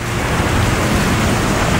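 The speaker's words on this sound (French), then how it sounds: "Oh oui, il commence à pleuvoir." Steady rain falling outdoors, a dense continuous hiss with a low rumbling undertone, loud and even throughout with no voices.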